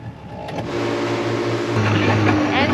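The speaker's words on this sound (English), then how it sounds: "the old engine's got other ideas. I've got that idle screw right up so it wouldn't cut out" An old outboard engine on a small boat idles with its idle screw turned right up, giving a steady low hum that stays close and continuous while the boat moves through shallow water off a remote tropical island.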